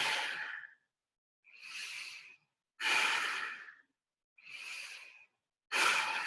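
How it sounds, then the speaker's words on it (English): Forceful breaths pushed out through the nose from the diaphragm come in five strong, evenly spaced bursts, each a rough rushing exhale separated by silence, close and loud. "see if you can make that noise, breathing through the nose"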